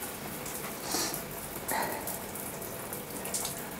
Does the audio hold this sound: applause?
no